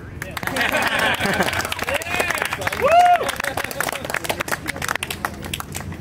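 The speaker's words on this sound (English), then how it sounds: "You can clap if you want" A rally crowd in Halifax breaks into clapping mixed with cheers and voices, irregular claps running throughout, with a shout rising midway and the crowd noise thinning toward the end.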